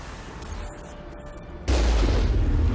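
A cannon fires at enemies in the Mass Effect video game: a quiet stretch of game ambience with faint tones, then one sudden loud blast that sustains as a heavy roaring rumble through the end.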